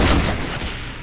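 Gunfire in the video game Fortnite, a loud burst at the start that decays into a steady rumbling wash of shots and echoes, with no talking.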